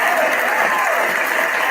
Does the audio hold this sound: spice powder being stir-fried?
no